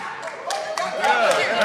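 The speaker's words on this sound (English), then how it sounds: "Clap it up for him." Audience clapping for a comedian at a stand-up set, a steady ragged patter of hands running the whole stretch, fairly close and mixed with a voice speaking over it.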